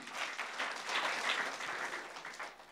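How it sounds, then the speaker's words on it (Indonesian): A church congregation applauds in a sustained burst of many hands clapping at once, full and fairly close, with no one speaking over it. "Tepuk tangan sekali lagi"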